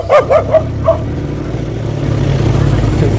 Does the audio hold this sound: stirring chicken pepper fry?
no